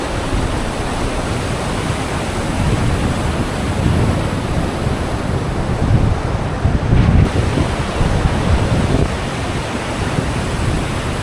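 The Bhagirathi river runs strongly at the Gaumukh glacier among snow-covered mountains: a loud, steady, broadband rush of water, dense and unbroken throughout, with no voices.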